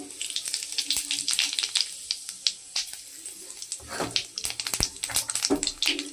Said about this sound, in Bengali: তেলটা গরম হয়ে গেছে ফোড়নে আমি দিয়ে দিচ্ছি গোটা জিরে